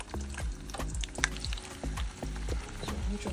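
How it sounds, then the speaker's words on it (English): Onions frying in oil in a pan, cooking toward very brown and crispy, heard as a close sizzle broken by a steady rhythm of repeated spoon scrapes and knocks, roughly three per second; no talking. "I'll add the onions and onion and allow that to become brown, like very brown and crispy."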